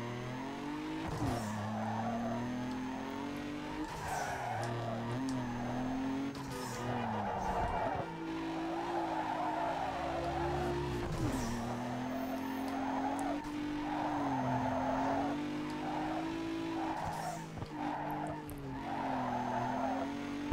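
A tuned car with a wide body kit drifts through a drift race in Need for Speed Underground 2, engine droning steadily while tires squeal and skid in long, sustained sweeps, loud and continuous throughout.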